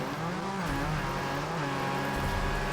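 A Porsche racing in the off-road game Gravel, its engine holding a steady, loud drone with shifting pitch as it drives on, no speech over it.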